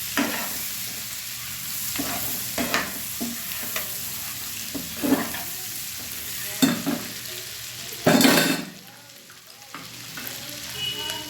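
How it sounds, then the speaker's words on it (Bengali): Boiled eggs fry with softened onions in a pan, giving a steady close sizzle marked by repeated scraping stirs and one louder clatter partway through, with no talk. "ডিমগুলোর সঙ্গে আমি একটু ভেজে নেব।"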